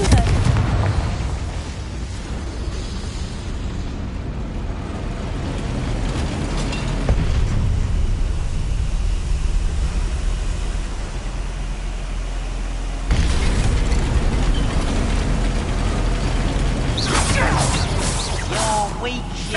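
Confringo blasting spell explosions in a Harry Potter video game, loud booming blasts and rumbling debris over a dense game soundscape, with heavier bursts partway through and near the end.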